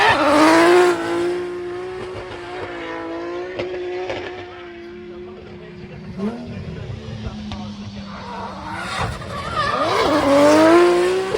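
A BMW-engined E36 race car runs at Castle Combe circuit during a spring track day, its engine note rising and falling through gear changes with a brief tyre squeal midway, loud and close, under commentator talk.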